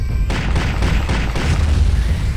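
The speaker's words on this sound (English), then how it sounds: "I like the sound of this machine gun." Machine gun fire in Turok 2: Seeds of Evil, a steady rapid burst of loud gunshots running without a break, thick low booms under a crackling top.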